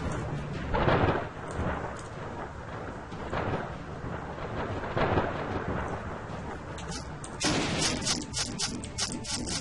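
Thunderstorm in the fantasy video game Tales of Maj'Eyal, tied to a storm-channelling archmage: rolling thunder rumbles swell and fade over steady rain, with a sharper crackling burst near the end.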